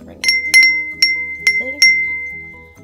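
Glass wind chimes made from stenciled wine bottles clink five times in bright, ringing strikes, each note lingering and fading; faint background sounds underneath.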